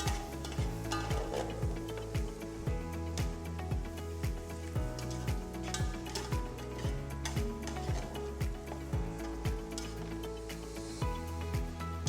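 Onions sautéing gently in a pan until translucent, a steady close sizzle with regular stirring strokes in an even rhythm throughout.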